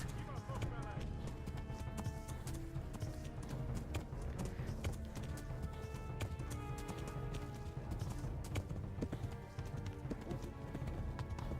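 Rapid hoofbeats of a galloping horse in Kingdom Come: Deliverance pound continuously under a steady stream of talking and background music.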